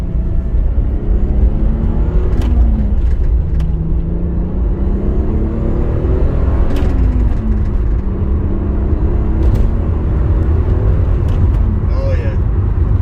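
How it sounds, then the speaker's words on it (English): A twin turbo Toyota Supra cruises on a Sunday drive, its engine droning steadily with rising and falling gear pitches under continuous road rumble, loud and close from inside the cabin. "Nice little Sunday drive and a twin turbo Supra"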